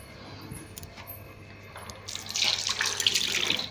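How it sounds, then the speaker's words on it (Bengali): Tap water runs into a kitchen sink for hand washing, a steady hiss that swells louder and brighter over the last second or so, with no talk. "হাতটা একটু ধুয়ে নিই"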